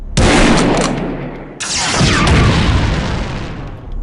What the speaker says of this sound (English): Adam just fires the pistol in the reflection